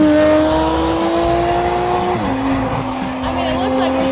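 A car engine revs hard and loud, holding a steady high drone that then drops in pitch as the gears shift, with a rough roar underneath at a roadside spot where a vehicle is being filmed.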